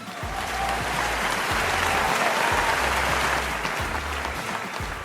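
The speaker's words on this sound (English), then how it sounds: "give them all a virtual round of applause" Applause for honorees at a virtual celebration of influential women in style; sustained crowd clapping swells and holds steady, with faint low thumps underneath.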